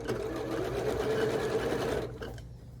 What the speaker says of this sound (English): And now we'll sew to the end.